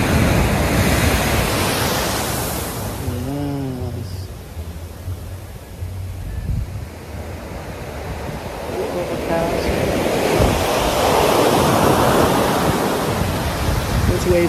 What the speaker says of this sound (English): Waves look like they could just suck you in.